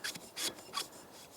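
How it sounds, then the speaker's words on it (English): A sunshade is screwed onto the front of an Element Optics Titan riflescope, giving three short, close scraping rasps of threads with brief pauses between them. "this screws onto the front here"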